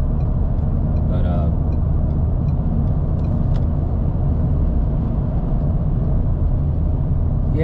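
Car driving along a highway from Knoxville, Tennessee, to Florida, heard from inside the cabin: a loud, steady low road and engine rumble that holds without a break.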